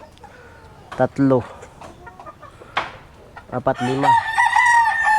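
Hens cluck in a crowded poultry pen while a Papeye Gray broodcock rooster lets out a long, loud crow near the end. A voice counts over the scattered clucks.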